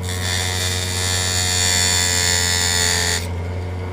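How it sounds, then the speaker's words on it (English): A rotary wheel cutter runs with a steady, loud high-pitched buzz while cutting the windows out of a Hot Wheels Chrysler Pacifica toy car, then stops abruptly near the end, leaving a low hum. "Use our trusty new wheel cutter over here."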